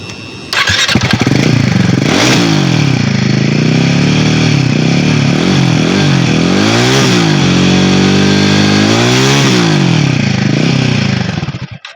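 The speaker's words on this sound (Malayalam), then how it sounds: "അതുപോലെ നമുക്ക് വാഹനത്തിൻ്റെ ഒരു എക്സോസ്റ്റ് നോട്ട് ഒന്ന് കേൾക്കാം" Royal Enfield Himalayan 450 motorcycle starting up, then its exhaust note idling and revving repeatedly in rising and falling sweeps, loud and close, cutting off at the end.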